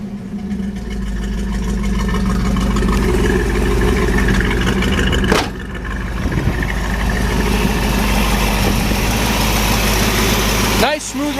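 A 1970 Dodge Challenger's 340 V8 engine idles steadily with a deep, even rumble throughout, a brief rev or clunk near the middle and a short sharp noise near the end.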